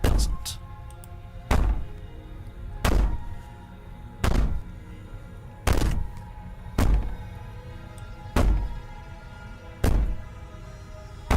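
Repeated heavy banging on a door in the video game Slay the Princess, about eight loud thuds at uneven intervals roughly one to two seconds apart, with no talk.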